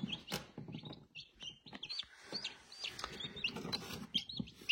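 Newly hatched chicks from incubated eggs chirp in a busy, overlapping stream of short high peeps, close by and fairly quiet, with soft handling and rustling noises underneath.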